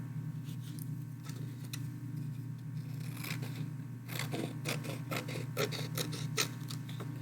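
Scissors cut straight across folded paper for a school craft project, a few close, crisp snipping and rasping strokes in quick succession over a low steady background hum, with no talk.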